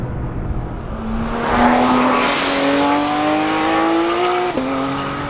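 A Porsche GT3 RS engine drones loudly while driving, its pitch climbing steadily under acceleration before a quick dip at a gear change, with road and wind noise underneath.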